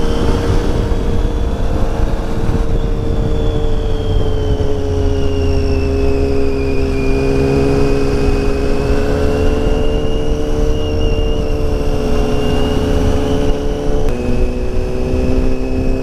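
Triumph Tiger adventure tourer motorcycle riding along Mulholland Drive, a steady loud engine drone with slowly shifting pitch and wind, held evenly throughout.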